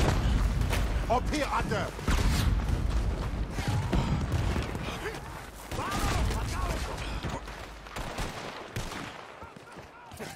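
Cannon fire and gunfire during a Red Dead Redemption 2 boat attack, with repeated booms and crackling shots running under loud shouting voices throughout.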